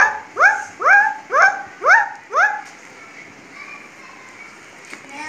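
A boy imitates a puppy's cries with five rising, whiny yelps in quick even succession, close and clear, followed by quieter background murmur.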